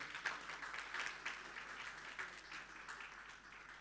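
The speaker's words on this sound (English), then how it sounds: "You can give her an applause that." Applause for committee chairperson Amina Frenzy at the SADC 2025 Media Awards, a fairly quiet, steady patter of clapping from a modest crowd lasting a few seconds.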